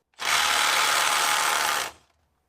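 A Milwaukee M12 FUEL subcompact impact wrench runs in reverse in a single burst of close, loud, steady rattling hammering that lasts just under two seconds. It stops abruptly and is followed by silence.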